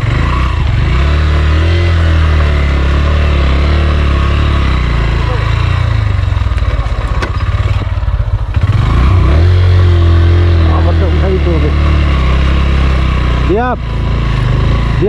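A motorcycle engine runs steadily on a rough hill road, a continuous low drone that lasts throughout, with passing wind noise, occasional voices and a short rising whine near the end.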